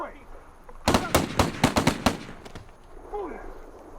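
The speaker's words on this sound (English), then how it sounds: "Captured on police body cam, the shooting would ricochet around the world." A rapid burst of about eight close, sharp gunshots recorded on police body cam footage, fired in quick succession over roughly a second, with a voice faintly audible before and after.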